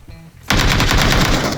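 Rapid automatic gunfire in the video game PUBG breaks out after a quiet moment and continues as a loud, dense burst of shots to the end.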